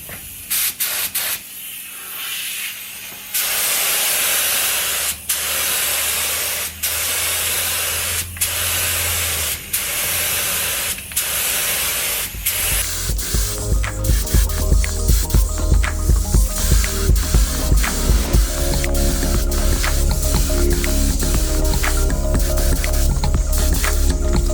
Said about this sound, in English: Alright, we're going to put down 2 coats of clear.